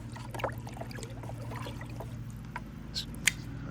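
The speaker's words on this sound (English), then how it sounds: "I'm just gonna add some water." Water trickles and pours into a pumpkin fertilizer solution, soft and intermittent with small splashes and squishy handling sounds.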